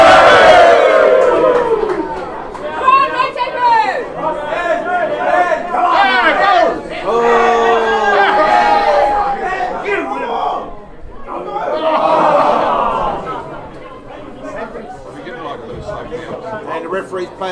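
Loud rugby crowd at a premier club match between Hautapu and Hamilton Old Boys, a continuous roar of shouting and cheering that swells and dips throughout, with voices calling out close by.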